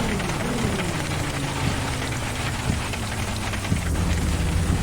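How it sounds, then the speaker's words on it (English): Heavy hail and rain pound a car's roof and windshield during a tornado-producing storm, a dense steady clatter with sharper individual impacts and a low rumble of wind and engine beneath. "Big hail."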